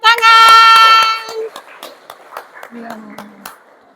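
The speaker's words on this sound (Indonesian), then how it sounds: "Ayo berikan tepuk tangan." Schoolchildren in a classroom clap hands after a group presentation, a loose run of separate, fairly crisp claps following a sustained voice, with chatter in the background.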